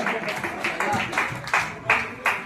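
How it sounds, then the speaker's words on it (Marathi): An audience applauds at a drama festival award presentation, with bursts of clapping rising and falling over about two seconds. "यांच्यासाठी जोरदार टाळ्या."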